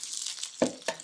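Seasoned mushrooms frying in a pan with salt and cracked pepper: a steady, soft, hissing sizzle with a couple of brief crackling pops, quiet and close.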